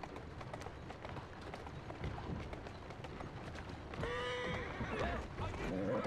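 A horse in Assassin's Creed Syndicate runs with a continuous patter of hooves, then lets out a loud, clear whinny near the end, with a soft voice murmuring underneath.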